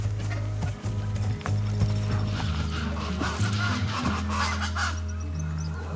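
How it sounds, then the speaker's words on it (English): Horse hooves clip-clop in a steady rhythm in the Pantanal wetlands of Brazil, mixed with honking birds and a continuous low mechanical drone. "the horse is pretty much the best way to get around"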